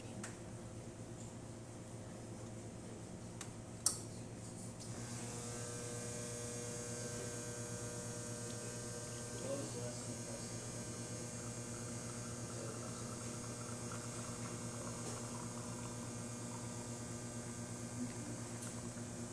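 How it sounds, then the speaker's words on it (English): A La Marzocco Linea Mini espresso machine, freshly tuned with its pump set to 7 bars, pulls a shot: a steady, faint electric pump hum that starts a few seconds in and holds evenly. "I'm going to pull a shot just to show you when everything's working."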